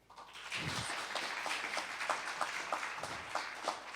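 Applause at a law and diplomacy graduation ceremony, moderately loud and sustained for about four seconds with steady scattered clapping, no speech over it.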